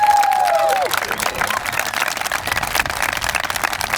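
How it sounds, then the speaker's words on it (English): Steady applause from a crowd at a school groundbreaking ceremony, a dense patter of clapping that carries on for several seconds after a brief squeal of feedback at the start. "Let's give them another round of applause."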